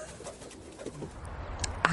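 Pigeons coo softly in short low murmuring calls over a faint background hum, with a brighter flutter or chirp near the end.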